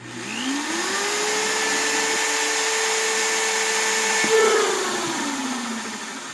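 A power drill boring drainage holes in a plastic bucket: a steady motor whine climbs as the bit spins up, holds level for several seconds, then winds down as the trigger is released, loud and close.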